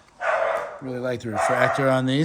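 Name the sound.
dogs barking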